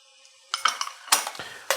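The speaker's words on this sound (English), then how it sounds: "Just going to stir that in." Metal utensil clinks and scrapes against a pan while minced garlic and fresh chopped rosemary are stirred in, a few quick irregular taps close up, fairly quiet with no talking.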